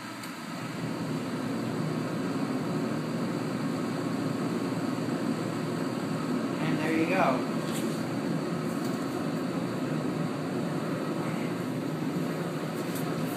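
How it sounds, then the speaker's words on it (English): A Master MH-70 portable 70,000 BTU kerosene radiant heater starting up, its fan whirring into a steady loud blowing roar, with a brief rising whine from the igniter partway through and a short spoken remark. "We're going to fire it up. Fan kicks on first, then we'll hear the igniter."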